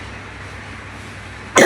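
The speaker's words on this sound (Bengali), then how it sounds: "এতটাই কাশি হচ্ছে, নাকও বন্ধ হয়ে গেছে" A single sharp, loud cough from a person sitting in a shop bursts out suddenly at the very end, after a stretch of quiet background hum.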